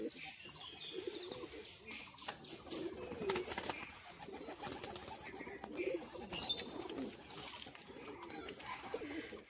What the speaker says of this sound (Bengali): তো সাদা সবুজ পায়ে মোজা একজোড়া পায়রা দেখুন বন্ধুরা